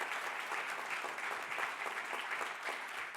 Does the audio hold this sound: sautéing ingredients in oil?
no